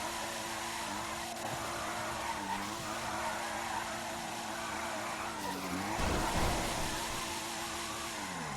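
A car drifts in GTA V roleplay, its engine revving in rising and falling sweeps while the tires squeal through long slides, with a louder burst of screech and engine near the end and no talking.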